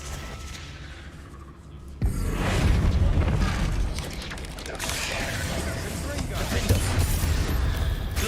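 A Bombarda spell explosion in Hogwarts Legacy lands as a sudden loud boom after a quiet start, followed by sustained rumbling and crackling debris, with a voice speaking over it.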